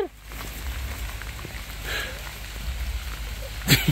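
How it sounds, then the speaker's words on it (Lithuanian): Steady rain patters down on a festival campsite at Mėnuo Juodaragis 2023, a continuous close hiss with a few brighter drips and brief rustles near the end. "Oi kaip lyja, oi kaip lyja,"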